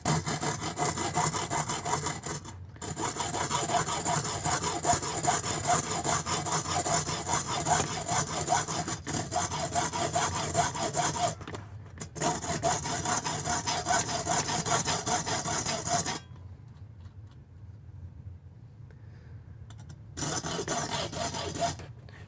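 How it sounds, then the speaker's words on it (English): A hacksaw cuts steadily in a long run of rhythmic back-and-forth strokes, close and clear, with short breaks and one longer pause before the sawing resumes. "Remember that your hacksaw only cuts on the push stroke, not on the pull stroke."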